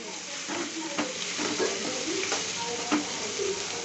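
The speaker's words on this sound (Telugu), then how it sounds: "టొమాటో బాగా వేగనిద్దాం" Tomatoes frying in a pan for uggani, a steady soft sizzle with repeated scraping stirs, close and fairly quiet, with no talk over it.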